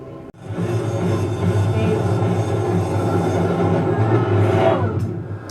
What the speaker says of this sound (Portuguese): Ah, o trem bala.